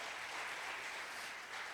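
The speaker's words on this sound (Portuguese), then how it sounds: "Dá um glória a Deus, um aplauso ao Senhor em nome de Jesus." A church congregation claps together in steady, dense applause that fills the room at a moderate distance. No talk can be heard over the clapping.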